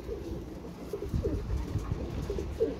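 Pigeons kept by Pakistani pigeon fanciers coo softly in a series of low, rounded calls, several overlapping at moderate distance against a steady background murmur.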